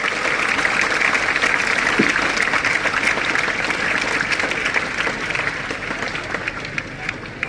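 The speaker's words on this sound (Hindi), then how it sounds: "एक बार सभी अभिभावकों के लिए जोरदार तालियां बजा करके" Parents and pupils at a school cultural program in Nawalgarh, India, applaud for several seconds, a loud, steady wash of clapping from a large crowd that slowly thins out.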